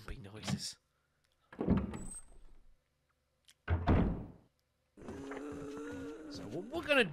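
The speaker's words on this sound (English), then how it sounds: "Zombie noises." Zombie groans and growls from the Resident Evil remake video game, several separate bursts with gaps of silence between them, the last one a long drawn-out moan, loud and close.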